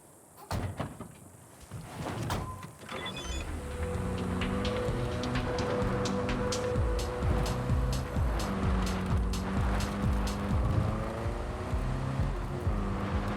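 In the Cyberpunk 2077 video game, a couple of car door clunks sound first, then an engine hum rises and carries on steadily with shifting pitch as the car drives off.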